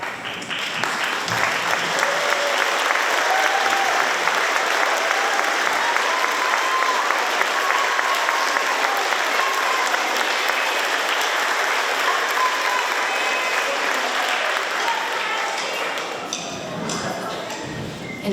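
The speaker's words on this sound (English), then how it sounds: "we can give them a big, huge round of applause" A school band concert audience bursts into loud, sustained applause for ninth-grade band students, a thick roar of many clapping hands with scattered cheers and voices mixed in, fading slightly near the end.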